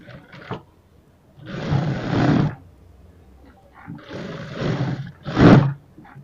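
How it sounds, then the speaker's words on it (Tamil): A sewing machine stitching a blouse runs in several short bursts of whirring, the longest about a second, separated by quiet pauses. "நெக் பகுதியில் இருந்து ஆம்கோல் பகுதிக்கு நம்ம தையல் போட்டுக்கலாம்."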